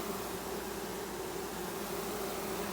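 A mating swarm of honeybees in a yard buzzing and fanning, a constant dense hum that is faint and steady throughout, with no voices.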